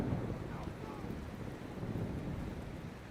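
Steady rain and a low thunderstorm rumble wash over a battlefield in Mount and Blade 2: Bannerlord, a continuous dense hiss holding at fairly even loudness throughout.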